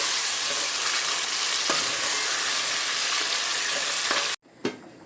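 Cluster beans (guar) cooking in masala in a pan, a dense, continuous close sizzle with a few stirring scrapes, cutting off abruptly near the end before a brief final clatter.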